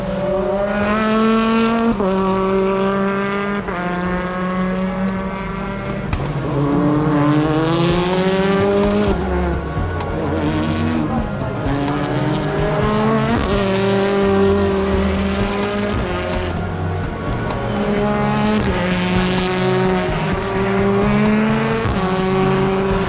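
Touring cars racing at a BTCC meeting at Oulton Park, loud sustained engine roar with rising and falling revs through gear changes, several cars blending together continuously with no talk.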